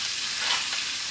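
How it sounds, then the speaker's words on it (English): Steak sizzles in hot fat and butter while being basted, a dense, bright crackling hiss that stays close and loud through the whole short moment. "You'll hear all the oil start to come out of it as soon as it hits the fat."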